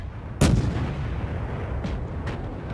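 Warship guns fire in the naval battle game World of Warships: one loud, close boom that rolls into a rumbling tail, followed by fainter, more distant blasts.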